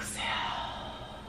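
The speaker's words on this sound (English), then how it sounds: "So let's go ahead and start with a nice deep diaphragmatic breath." One long, deep diaphragmatic exhale is breathed out close to the microphone as a soft, steady airy rush that fades gently over about a second.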